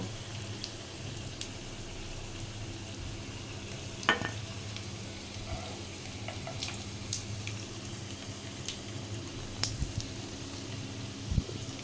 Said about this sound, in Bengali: মাছের ডিমের বড়াগুলো ভালো করে ভেজে নিয়েছি লাল লাল করে